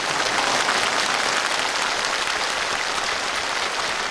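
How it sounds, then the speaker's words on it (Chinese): A studio audience at a televised calligraphy, painting and music program applauds a famous painter. The dense, even clapping stays steady and loud for the whole stretch, with no voices. "大家掌声感谢。"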